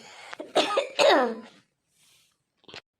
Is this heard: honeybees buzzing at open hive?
no